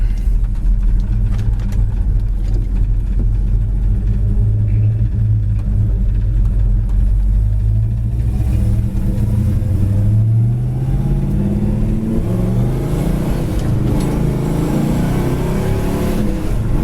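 A 1969 Road Runner muscle car, dark green, drives and accelerates with a loud, steady engine rumble that rises as it shifts smoothly through the gears, heard up close from inside the car at highway speed.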